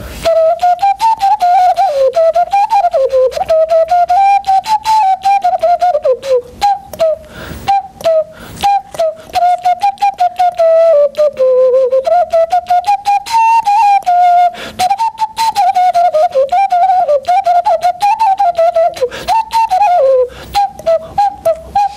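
A clay whistle plays a continuous wavering melody meant to imitate cuckoo calls, loud and close, with breathy fluttering notes rising and dipping in repeated phrases for the whole stretch.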